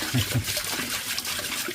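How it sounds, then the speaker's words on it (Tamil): A homemade water fountain built from electrical wiring pipe runs after being switched on, making a continuous close splashing and trickling with no one speaking. "இது வந்து வாட்டர் ஃபால் இல்லை, வாட்டர் ஃபவுண்டைன்."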